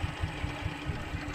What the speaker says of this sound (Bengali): ইঞ্জিনের আওয়াজের কারণে আপনারা সাউন্ড কেমন বুঝতে পারছেন আমি জানি না